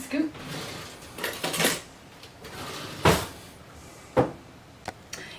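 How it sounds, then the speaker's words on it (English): Metal kitchen utensils clatter and clink as an ice cream scoop is pulled from among them, a few sharp bursts of rattling and knocks separated by short pauses, close by with faint talk in the background. "I'm grabbing my ice cream scoop because I do not have a cookie scoop"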